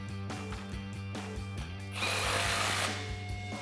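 A power tool whirs close by while tightening an exhaust clamp on a 2009-2013 Silverado 1500 4.8L dual exhaust, with a steady motor hum and a louder, harsher burst midway.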